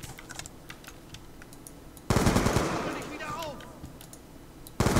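Automatic rifle fire in the video game Black Ops 2: light clicks and faint background first, then a loud sustained burst of rapid shots lasting over two seconds, and a second burst starting at the end.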